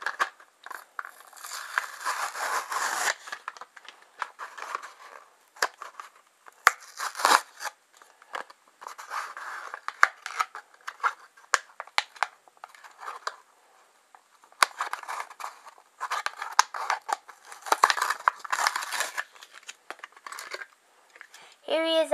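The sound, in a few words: unboxing a Hot Wheels car package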